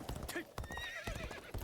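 A horse in a video game whinnies while its hooves clip-clop in a quick, steady rhythm, close and clear against busy game sound.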